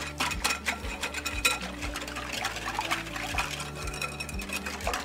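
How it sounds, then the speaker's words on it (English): Cornstarch being whisked into a pan of fried apple sauce: a steady run of quick, wet scraping and swishing strokes that repeat in a close, even rhythm with no talk. "So you just whisk it around and get all the cornstarch mixed in."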